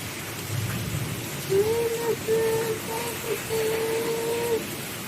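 Steady rain hiss fills the background while a high voice hums or speaks in short tonal bursts over it, fairly close.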